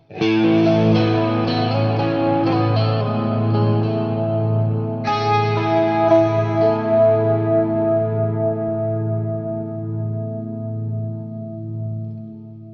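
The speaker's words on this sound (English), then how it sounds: "I'm going to throw this cathedral reverb on top of the hall" Sustained electric guitar chords through a Headrush cathedral reverb stacked on a hall reverb bloom into a huge, washed-out wash, notes ringing and blending into a long ambient tail, with a second strum halfway through.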